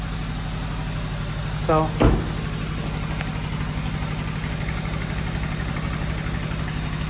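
A car engine idles with a steady low drone for several seconds; a brief rising squeak-like sound and a short spoken word break in early, then the idle carries on evenly.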